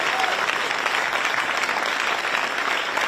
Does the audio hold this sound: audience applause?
yes